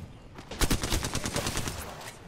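Rapid gunfire in a video game: a loud, close burst of automatic shots, followed by a quicker stutter of fainter rounds that tapers off.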